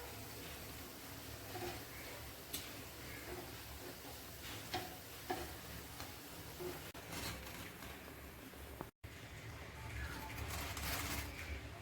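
Potato balls deep-frying in hot oil, a steady low bubbling sizzle with occasional crackles and small ticks running throughout at a modest, fairly quiet level.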